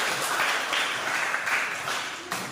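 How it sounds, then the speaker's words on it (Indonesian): Applause from a class of students in a classroom, a sustained patter of many hands clapping together for a classmate who answered, steady and fairly close for about two and a half seconds. "tepuk tangan untuk Novi"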